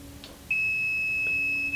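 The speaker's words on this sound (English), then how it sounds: "You heard it beep for a second." A Fluke VoltAlert 1AC II or 2AC voltage tester pen gives one steady, high-pitched beep. It starts suddenly partway through and holds at a constant, fairly loud level to the end, with no talking.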